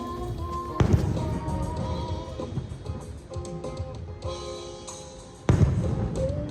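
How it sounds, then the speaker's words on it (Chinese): Christmas Eve fireworks near a hotel in Phuket, with two sharp booming bursts, one early and one near the end, over a busy background of crackles, pops and ambient noise. "回酒店还看到了圣诞烟火"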